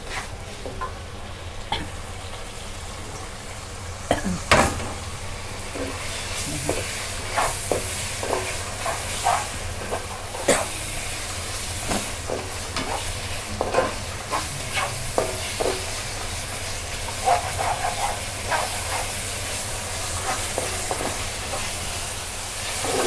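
Pork belly stir-fried with shrimp paste and cha-om leaves in a pan sizzles steadily, with repeated sharp spatula scrapes and clatters scattered throughout, close and continuous with no talking.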